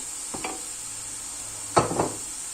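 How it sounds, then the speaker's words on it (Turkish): Chopped onions fry in olive oil with a spoon of butter, giving a steady, even sizzling hiss throughout, broken by two brief scraping stirs, one faint and one louder near the end. "Önce biraz soğanımızı yağda kavuracağız."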